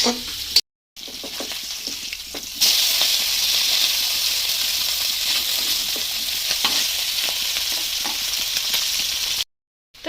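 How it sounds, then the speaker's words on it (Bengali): Chapila fish fry in a pan with a bright, continuous sizzle and crackle, close and fairly loud, broken by brief silent gaps near the start and end. "এইদিকে আমার মাছ ভাজা প্রায় শেষ সব মাছগুলো আমার ভাজা হয়ে গেল"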